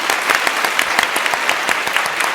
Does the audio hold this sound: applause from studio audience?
yes